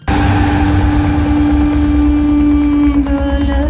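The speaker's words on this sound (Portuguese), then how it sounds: "ele vai atrás dela enquanto dirige uma Porsche e ela uma Audi em alta velocidade" A Porsche and an Audi convertible speed along together in a Mission: Impossible 2 chase, giving a loud, steady engine drone with a whining tone that shifts near the end.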